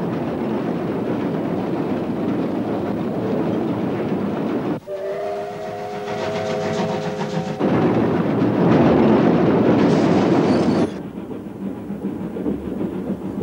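A train rumbles through a long mountain tunnel, a steady loud roar with a brief dip and a horn-like tonal blast midway, then a brighter, harsher rush before the noise settles again.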